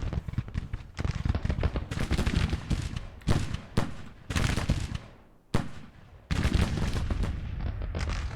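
Civil War battle sounds in Grand Tactician, with artillery including 30-pounder guns: repeated loud booming cannon blasts and crackling musket volleys that come in dense bursts with brief gaps between them.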